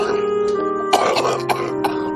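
An elderly grandmother coughing and clearing her throat in a home at night, several rough, hacking bursts over a low, steady background hum, close and fairly loud.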